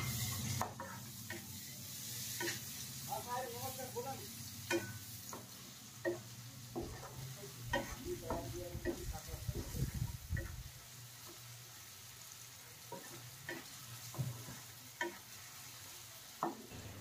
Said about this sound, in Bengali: এবার মশলাটাকে ভেজে নেব।